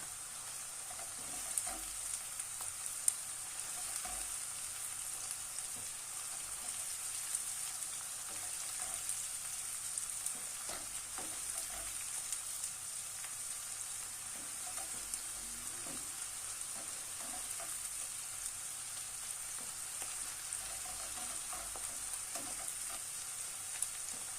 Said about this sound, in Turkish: Bir tatlı kaşığı tepeli olacak şekilde salça ekleyip ham kokusu çıkana kadar kavuruyoruz.